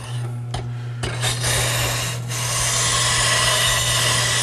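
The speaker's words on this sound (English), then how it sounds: "Jeff, you're using a different honing wheel for the gouge." A woodworking gouge is held against a spinning honing wheel at a sharpening station, giving a close, steady hiss and rasping rub over a constant motor hum, with a few brief scraping contacts at the start.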